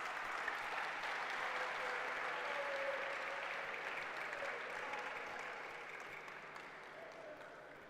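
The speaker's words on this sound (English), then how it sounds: "Let's give them a round of applause." Audience applause at a regional high school science quiz championship final: a steady, fairly faint wash of clapping from a large crowd that gradually softens toward the end.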